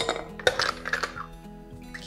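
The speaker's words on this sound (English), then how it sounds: "Next, I'm gonna add some ice cubes." Ice cubes are dropped into a cocktail glass for a lemongrass hibiscus drink, a few bright clinks and clatters close by in quick irregular bursts, with no talk.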